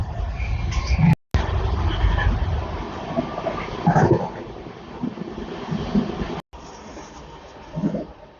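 A train rumbles past on the Chennai to Tambaram line in southern India, a steady mid-distance rolling roar with wind, broken by two brief gaps in the recording.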